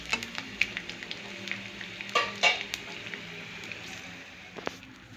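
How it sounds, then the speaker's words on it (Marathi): Edible gum (dink) fries and puffs in ghee in a pan, a soft, crackling sizzle with a few small clinks and stirring scrapes, quiet and close, with no speech. "आपला डिंकसुद्धा तळून झालेला आहे"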